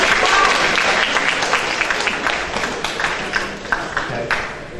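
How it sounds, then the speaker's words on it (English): Enthusiastic applause from a student audience at a school student government candidate event, loud dense clapping at first that gradually thins and fades over a few seconds. "please everyone give another round of applause for all of the sophomores running for next year"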